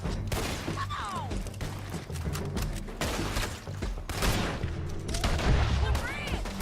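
Dense gunfire from a shootout in the video game Red Dead Redemption 2, rapid overlapping shots and heavy thuds in a continuous loud barrage, with voices shouting underneath and some whizzing, ricocheting sounds in the mix.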